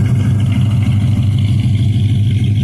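A rare 1967 Dodge Dart GT convertible with a 273 four-barrel V8 idles steadily, a loud, close, low rumble with an even pulsing beat and no talk.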